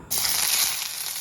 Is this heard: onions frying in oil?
yes